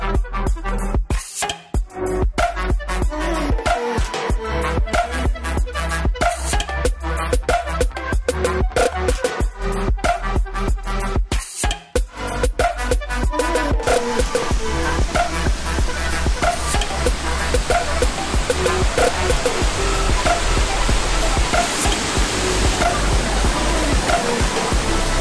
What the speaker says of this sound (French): de l'eau qui tombe dans la cascade